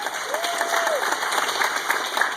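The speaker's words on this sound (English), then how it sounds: "Ladies and gentlemen, give them a big round of applause." Applause from the audience at a stage hypnosis show rises as a steady, dense wash of clapping and carries on through the whole moment with no pause.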